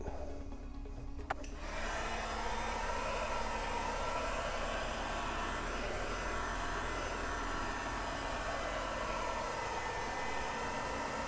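A heat gun warming craft material so it can be bent, a faint click and then a steady, continuous blowing whoosh that holds evenly, with no talking.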